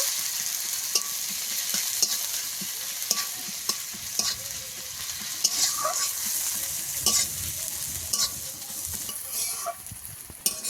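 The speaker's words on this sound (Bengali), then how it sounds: "পেঁয়াজটাকে একটু ভালো করে ভেজে নেব" Onion and garlic sizzle in hot oil in a pan, with a broad, steady frying hiss and frequent scraping stirs and light clicks from a spatula, close and fairly quiet, with no talking.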